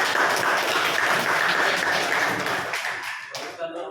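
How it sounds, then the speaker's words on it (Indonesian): An audience claps for a student group at a school presentation, steady applause filling most of the clip before fading out toward the end, with a voice faintly under it. "mari kita berikan aplaus kepada mereka"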